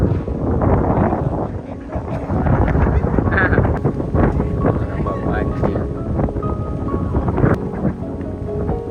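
Wind blowing across Lake Limboto at a fishing spot, a steady loud rush with buffeting on the microphone, mixed with background voices and activity throughout.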